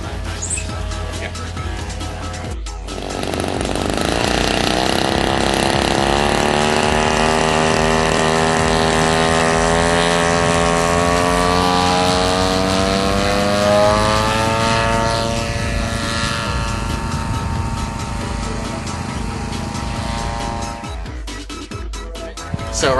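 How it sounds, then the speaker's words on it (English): Steady propeller engine drone overhead from two small propeller planes, loud and continuous, with shifting pitch as the aircraft pass, lasting most of the time. "So right now the planes are loitering in the sky."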